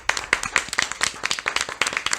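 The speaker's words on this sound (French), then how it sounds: "On va t'applaudir." A small television studio audience claps briskly nearby, a short burst of sharp, uneven handclaps that carries on without pause.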